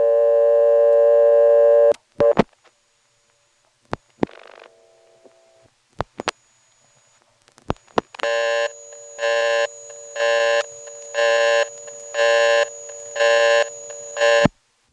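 A 1977 GTE step-by-step telephone exchange in Williamston, North Carolina, gives a steady buzzing busy signal in regular on-off pulses after sharp clicks of rotary switching and brief tones, all over a faint line hum.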